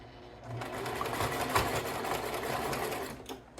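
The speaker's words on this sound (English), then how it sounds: "Reverse stitch." A sewing machine runs steadily through a reverse stitch, its rapid mechanical stitching loud and continuous with a brief slowdown near the end; no one speaks.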